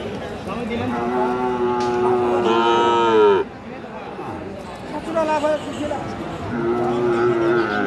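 Sahiwal breed bull calves at the Aftabganj cattle market, loud drawn-out moos nearby, one long call then softer ones, with people talking and market chatter around.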